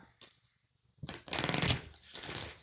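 Close, quiet tarot card shuffling: a few soft taps, then a rapid riffling flutter lasting about a second before trailing off.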